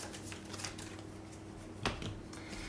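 A deck of game cards from a roguelite board game is shuffled quietly at close range, a soft riffling flutter with one brief sharper snap midway, faint and alone.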